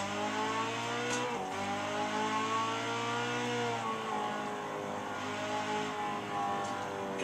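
McLaren MP4-12C supercar engine in the racing game Test Drive Unlimited 2, a steady loud drone with layered harmonics whose pitch dips and climbs through gear changes, continuous across the stretch with no voices.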